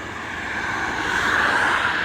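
A 2004 Fiat Marea Liberty with a 1.6 engine (103 hp) running at top speed on the North Ankara ring road, heard as a steady, loud drone of engine, road and wind noise that swells slightly and holds without a break.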